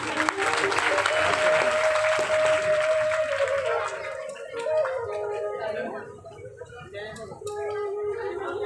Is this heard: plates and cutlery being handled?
no